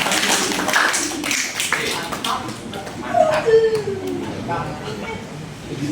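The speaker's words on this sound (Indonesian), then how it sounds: "Boleh tepuk tangan untuk Mas Tirta" Scattered applause for presenter Mas Tirta rises from a small group at a machine-operator session, a burst of clapping that thins out while voices keep talking over it.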